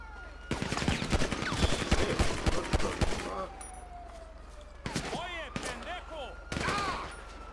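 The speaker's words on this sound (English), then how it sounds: "Up, oh, he's shooting at us." Rapid bursts of gunfire crack out in a GTA 5 police patrol shootout, dense and loud for about three seconds, then a few more isolated shots, with a siren wailing and voices talking throughout.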